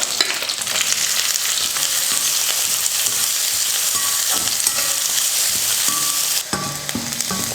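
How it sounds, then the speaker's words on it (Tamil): Finely chopped large onions with curry leaves fry in a pan for a Tamil poriyal, a dense, steady sizzle with spoon scrapes and stirring clatter throughout. "வெங்காயம் நல்லா வதங்கிடுச்சு"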